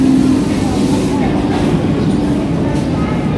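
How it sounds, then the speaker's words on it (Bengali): A train pulls into a station with a loud, close, continuous rumble and clatter of wheels on rails that eases slightly as it slows. "ট্রেন ঢুকে গেছে"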